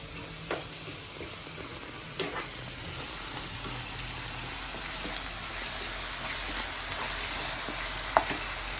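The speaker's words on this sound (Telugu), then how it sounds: "ఆనియన్ పేస్ట్ వేగిపోయింది" Onion paste sizzles steadily in a pan for mushroom curry, a close, even frying hiss broken by a few sharp clicks and taps of stirring, with no voices.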